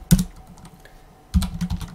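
Two quick bursts of keystrokes on a computer keyboard while entering a ROS terminal command, clicking close and clear with a pause between bursts.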